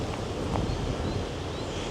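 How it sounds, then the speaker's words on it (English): Steady wind blowing outdoors near an overgrown explosion site, a constant broadband rush with microphone buffeting, loud and continuous with no speech. "That's how windy it is."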